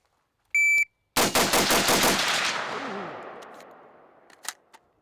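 A Sig MCX rifle fires a rapid burst of about a dozen loud shots, each cycling with a metallic clack, then a ringing echo that decays. An electronic timer beep comes just before the burst.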